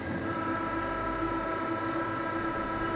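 Train at a Paris metro station, a steady loud rumble of rolling stock with a sustained tonal signal running throughout, close and continuous with no voices.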